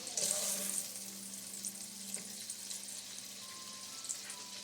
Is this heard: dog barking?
no